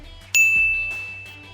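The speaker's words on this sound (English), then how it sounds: "Give yourself a ding, Muse." A bright ding bell sound effect strikes once, loud and clear, then rings out with a long sustained tone that slowly fades.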